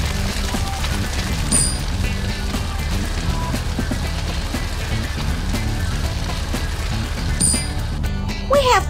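A fire hose sprays water onto a fire in a cartoon driving game for kids, a steady hissing, splattering rush that continues throughout at an even, fairly loud level.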